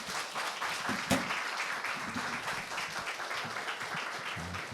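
A church congregation at a founding worship service gives a pastor a warm round of applause, a steady, moderately loud wash of clapping with a brief louder clap near the start.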